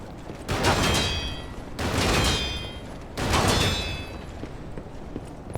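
Enemy machine gunners firing in Lies of P, three loud sustained bursts of rapid gunfire, each lasting about a second with short gaps between, close and dominant with mechanical ringing tails.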